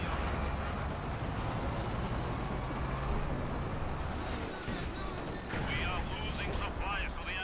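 Tank cannon fire and battle noise in the video game Company of Heroes 2, with Panzer tanks in combat: a dense, steady wall of rumbling explosions and gunfire with no clear pauses.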